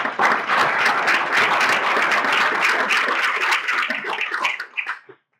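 A luncheon crowd claps in a dense, sustained round of applause that holds steady for several seconds, then tapers into a few scattered claps and stops abruptly.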